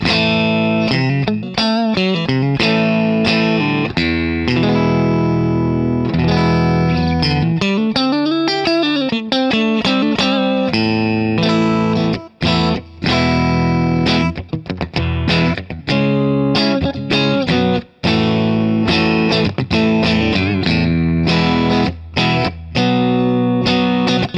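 A distorted Stratocaster-style electric guitar with built-in effects, played on the middle and neck pickups, plays continuously with chorus-like effects, chords and bent notes ringing out loudly, with brief gaps between phrases.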